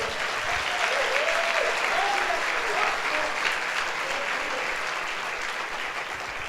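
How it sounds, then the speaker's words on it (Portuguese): A church congregation at a Sunday service applauds in a thick, continuous roar of clapping that stays loud and even throughout, with faint cheering voices rising within it. "Vamos dar um aplauso ao Senhor?"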